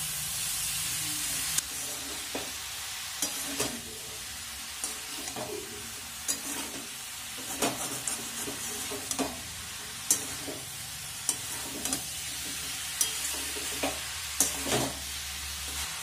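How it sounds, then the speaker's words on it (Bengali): Spinach ghonto fries in a pan while a spatula stirs it, giving a steady soft sizzle broken by repeated sharp scraping strokes at irregular intervals, close and fairly quiet, with no voices. "আবার কিছুক্ষণ নেড়ে চেড়ে ভালোভাবে সব মিশিয়ে নেব।"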